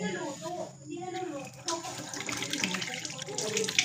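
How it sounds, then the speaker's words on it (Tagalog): Tap water runs steadily into a sink for handwashing, a soft close splashing stream that grows fuller after the first couple of seconds, with faint speech at the start. "Gusto niyo maghugas ng kamay?"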